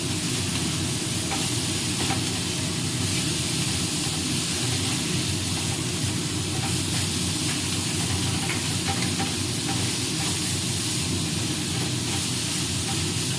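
Chickpea greens (chola shak) frying in a pan: a continuous loud sizzle and hiss throughout, with occasional scraping stirs and no talking.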